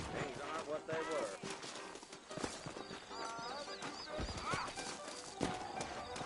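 In the Red Dead Redemption video game, horse hooves clip-clop steadily in the background beneath almost constant talk, with a short whinny-like call rising midway.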